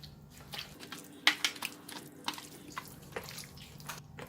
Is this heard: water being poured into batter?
yes